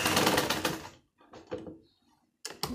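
A sewing machine runs a short, steady stitching burst as it sews down a fold of underwear fabric, followed by a few faint clicks and a brief second whir.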